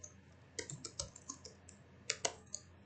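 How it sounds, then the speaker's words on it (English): Rapid bursts of typing on a computer keyboard while editing a Markdown text file in VS Code: light, close key clicks in irregular clusters with short pauses, fairly quiet and with no talking. "I can live type and say, hey, check this out."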